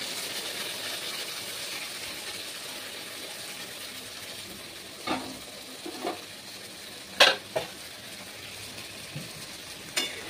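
Ground spice paste goes into fried potatoes in a pan for a fish egg masala curry, making a soft low sizzle with a handful of distinct stirring knocks and scrapes later on, no speech.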